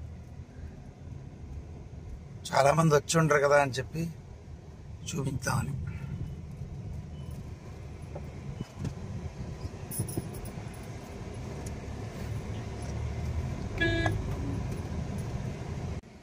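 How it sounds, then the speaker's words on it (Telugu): A car passes through the temple gopuram gateways at Srirangam, its low, steady in-cabin road rumble running beneath nearly continuous conversation. "గోపురాల లోపల నుంచి కారు వెళ్తుంది"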